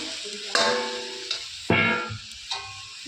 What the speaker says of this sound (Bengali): আমি চালের আটা দিয়ে ভালো করে নেড়ে চেড়ে নিচ্ছি